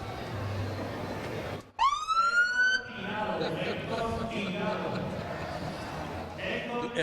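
A motorcycle-mounted police siren wails up sharply after a brief silence, rising in a loud sweeping tone over steady background noise and faint voices at a motorcycle expo.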